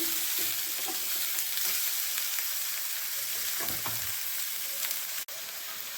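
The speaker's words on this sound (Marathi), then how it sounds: "एक दोन तीन मिनिट असेच गवार चांगली परतून घ्यायची" Cluster beans (gavar) sizzle as they are sautéed in a pan with salt, a continuous frying hiss with small crackles and an occasional soft stir, and no voices.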